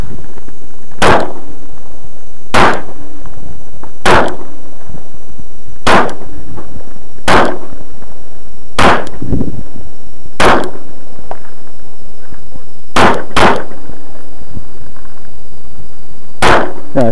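Pistol shots ring out at an IDPA shooting stage, about eleven loud, sharp cracks spaced irregularly over many seconds, a couple fired in quick pairs, with no talk in between.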